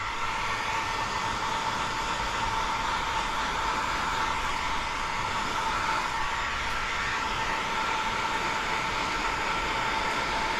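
A heat gun warming window tint film on a Tesla Model Y roof blows a constant, loud, airy roar with an even hiss, unbroken throughout.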